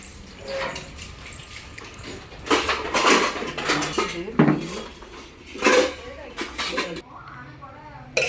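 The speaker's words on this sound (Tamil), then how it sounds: "பாத்திரத்தை போய் அடுக்கணும்" Washed pots and metal vessels being stacked away, with scattered clanks and clatters of metal against metal, a few louder bursts amid softer handling, while someone talks over the work.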